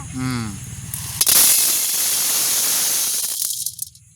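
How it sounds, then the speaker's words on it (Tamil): Corn grains roasting in a pan, a loud close hissing sizzle that rises suddenly and holds steady, then breaks into a few crackles before cutting off. A voice speaks briefly at the start. "அடுத்ததான் சோளனை வறுப்போம்."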